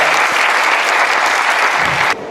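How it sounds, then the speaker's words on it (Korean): Loud, dense audience applause for a presenting team after a presentation battle, continuous clapping that cuts off abruptly near the end. "여러분 마지막까지 고생해준 쿠도스에게 큰 박수 부탁드리겠습니다."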